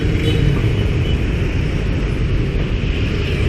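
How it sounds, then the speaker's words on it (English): Dense city traffic on a Saigon street on a Sunday, with cars and a truck passing, forms a loud, steady roar of engines and tires close by that carries on without a break. "Oh God, there's a lot of traffic."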